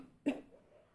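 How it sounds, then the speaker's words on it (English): A single short, sharp cough bursts out, followed by a faint fading tail and quiet room tone. "You will cough on the face of other person like this."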